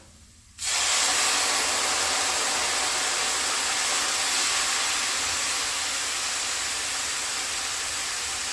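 White wine poured into a hot pan of toasted Israeli couscous bursts into a loud, steady sizzling hiss of steam that starts abruptly and holds strong throughout, close and alone.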